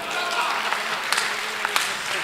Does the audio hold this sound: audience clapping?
yes